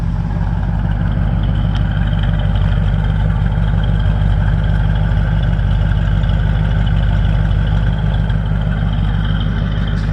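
A big block engine in a 1950 Ford F1 pickup with a stock, uncammed sound runs at a steady idle, a loud, even low rumble close by for the whole stretch, with no voices.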